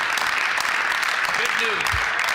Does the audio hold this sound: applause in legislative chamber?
yes